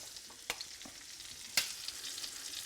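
Shrimp for scampi sizzle steadily in a frying pan, with a faint continuous hiss broken by a few sharp pops of oil, one standing out loudly near the end.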